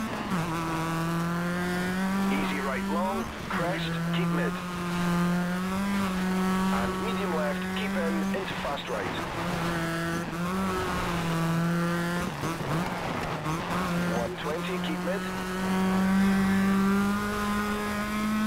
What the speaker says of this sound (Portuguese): Corzinha fechada aqui à direita, vou ter que usar o freio de mão